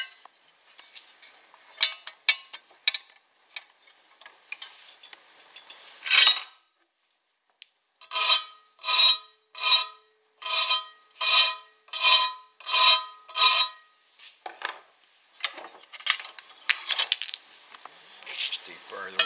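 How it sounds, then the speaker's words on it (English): Hand file rasping along the edges of a mild steel stove shovel to deburr them, with scattered short scrapes and clinks, then a run of about eight loud, even, rhythmic file strokes close by, followed by lighter handling noises. "Just deburr those edges a little bit."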